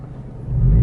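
A manual Honda Civic Si pulls away in gear, its engine hum rising into a louder low rumble as the clutch engages and the car accelerates, close and steady.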